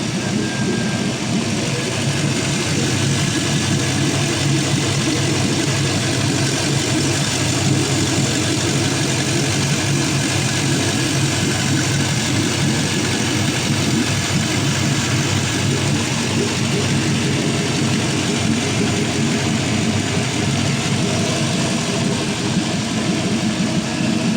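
A GM 5.3-liter LS V8 truck engine runs on a test stand in a shop, a steady close idle with a deep, even rumble and constant level throughout, no talking.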